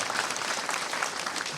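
Steady, even applause from a gathered crowd at a Kikuyu memorial gathering, a continuous wash of many hands clapping at moderate level.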